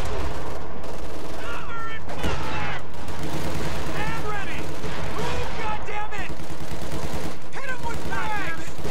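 Howitzer artillery and small-arms fire in the video game Company of Heroes 2: bursts of booming shots and rattling gunfire, loud and overlapping, with in-game voices calling out between the blasts.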